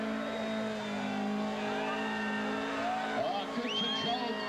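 Tyres squeal as a 2-litre four-cylinder Datsun skids through burnout donuts, the engine droning steadily and close with rising squeals near the end, while a voice talks over it.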